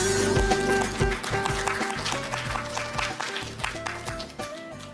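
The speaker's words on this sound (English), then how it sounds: "Let's give ILO team another big round of applause" Applause from a symposium audience for the ILO team at a KOSTAT-ILO labour statistics event, a dense sustained clatter of clapping across the hall with tonal background sounds mixed in, gradually thinning toward the end.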